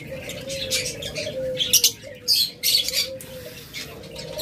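Pairs of blue conures in a cage give bursts of shrill chirps in irregular clusters over a faint low background hum, moderately close with no talking.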